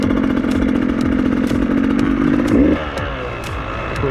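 A Beta motorcycle engine runs close by with a steady, throaty idle, then rises in a short rev before dropping back to a rough idle with a faint, regular ticking.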